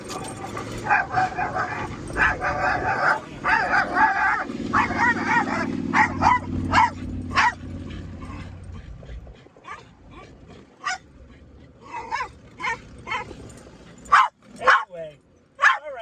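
A dog whimpers and yips with sharp barks at a passing motorcycle over a rumbling car engine and road noise, the barks growing louder and more frequent toward the end.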